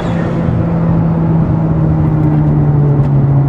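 A revving modified Mitsubishi Lancer Evolution X with a turbo blow-off valve gives off a loud, continuous engine drone with a steady low hum, close to the microphone, and nobody speaks.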